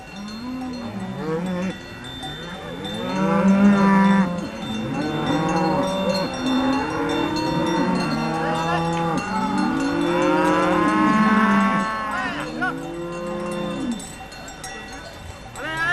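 A herd of cows being gathered into a pen moos repeatedly, long overlapping lowing calls from several animals near and far, with cowbells clanking steadily underneath.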